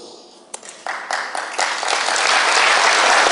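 A crowd starts clapping with a few scattered claps, then quickly swells into full, sustained applause.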